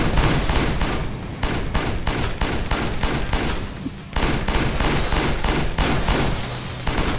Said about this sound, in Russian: Кто там стреляет?